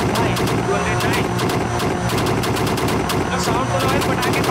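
Rapid popping and crackling bursts from a tuned car's exhaust at very high speed in the BeamNG driving game, sounding like strings of firecrackers over a loud, steady engine roar.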